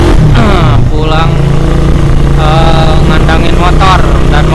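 Loud motorcycle engine running close by at night, a sustained rumble with rising and falling revs and whining tones throughout.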